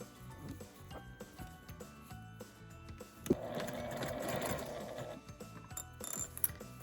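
A sewing machine stitches slowly along the top edge of a fabric tablet pocket with a cardboard insert, a steady mid-loud mechanical whirr lasting about two seconds amid soft handling clicks and rustle.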